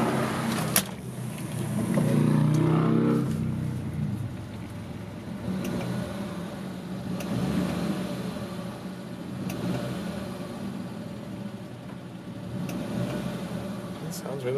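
A carbureted 1989 Suzuki Samurai 4x4 engine runs after starting, a steady mid-pitched idle with slight swells, close by, while a person talks over it now and then.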